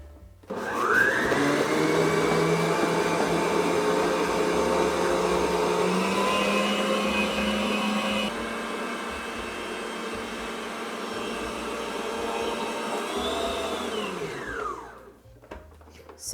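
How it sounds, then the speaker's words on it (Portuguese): An electric stand mixer beats butter with sugar for a party cake, giving a loud, steady motor whine that drops a little in pitch partway through before spinning down and stopping near the end. "A gente vai bater primeiro a manteiga com o nosso açúcar"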